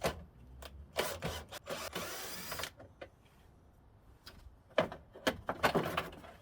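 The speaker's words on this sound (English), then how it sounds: "I'm going to start by removing the plastic covers along the front." Plastic covers being unclipped and pulled from the front of a Mk4 Volkswagen Golf 1.8T, a series of close scattered clicks, snaps and scraping rubs of plastic with quiet pauses between.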